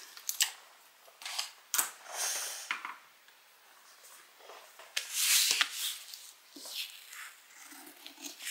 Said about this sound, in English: I'm gonna draw another line and then just go ahead and trim my foam back